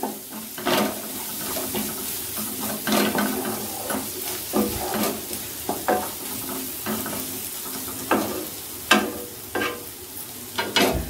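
A utensil scrapes and stirs spices for a dal tadka in a pan with a soft sizzle underneath, in irregular bursts of scraping strokes.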